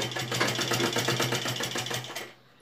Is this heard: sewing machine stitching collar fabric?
yes